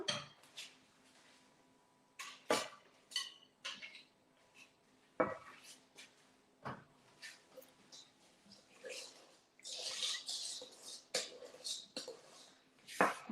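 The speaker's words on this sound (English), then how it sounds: "I'm gonna use the whisk" A wire whisk beating a runny rose and pistachio cake mixture in a bowl, with sharp metallic clinks and taps against the bowl in irregular bursts and scrapes in a home kitchen.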